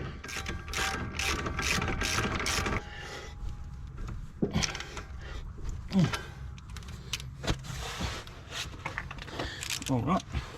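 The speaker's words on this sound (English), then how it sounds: "Got the right socket here. It's a 21mm." A socket wrench with a 21mm socket ratchets on a nut during an engine swap in a 2008 Nissan X-Trail T31 2.5-litre, starting with rapid close clicking and then giving way to scattered clanks and tool handling.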